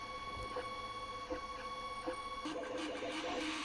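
A Creality HI 3D printer works through a multicolor print, its stepper motors whirring in shifting tonal runs with soft clicks, steady and moderately quiet.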